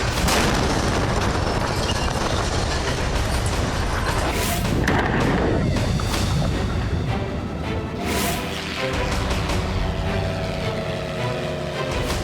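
Loud rumbling roar with a few heavy booming blasts from Israeli airstrikes in southern Syria, dense low-frequency noise throughout and sharper bursts scattered across the stretch, no voices.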